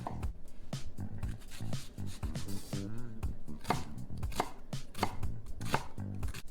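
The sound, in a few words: chopping onion and garlic for lasagna sauce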